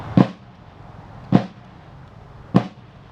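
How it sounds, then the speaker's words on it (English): A swivel gun fires a ceremonial salute at a Revolutionary War memorial ceremony, three sharp booming shots spaced about a second apart, each loud blast fading quickly into quiet. "the salute being punctuated with a firing of the swivel gun"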